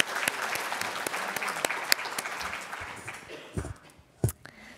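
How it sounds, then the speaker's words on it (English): Audience applause at a university nursing admissions panel, a dense wash of clapping from a room of people that thins out toward the end, with a few louder nearby claps standing out. "Let's give a round of applause."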